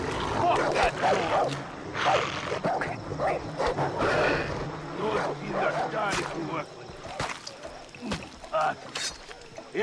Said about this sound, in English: What is that dog going off about?